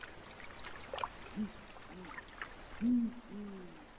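Deep hoots from an owl come from a snowy forest riverbank in the Sikhote-Alin wilderness. They are soft, low and spaced apart over a faint background of running water.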